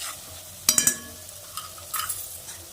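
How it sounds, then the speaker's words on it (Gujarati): A spoon stirs and scrapes spices through a hot pan while preparing a drumstick, pea and potato curry, with a quick run of three sharp metallic clinks followed by softer scraping and a faint background sizzle. "હવે બધો મસાલો થોડો મિક્સ કરી દઈશું"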